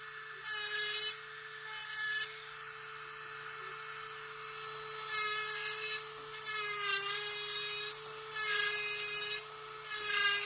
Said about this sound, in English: This drill is absolutely awesome.